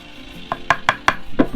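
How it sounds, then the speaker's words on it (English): Smoked cheesy jalapeño cream corn being stirred, five or six distinct knocks and scrapes of a utensil against the dish in a quick uneven rhythm, close and fairly loud. "What you want to do is you just want to stir this in really good"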